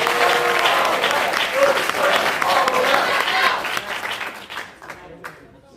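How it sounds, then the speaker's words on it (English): A quiz-tournament audience at a Latin certamen semi-final applauds the competing teams, with sustained clapping and some cheering that dies away over several seconds. "let's cheer for our teams with one question"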